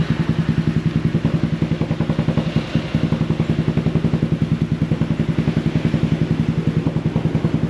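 A bored-up Honda PCX 160 scooter engine idles close by, with a fast, even, thumping pulse and a slight clatter that keep a steady rhythm and briefly stumble once.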